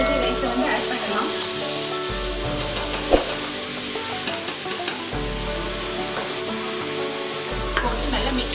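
Soaked basmati rice sizzles and fries in hot ghee with whole spices, a steady loud hiss with scraping stirs and an occasional clink of the spoon throughout.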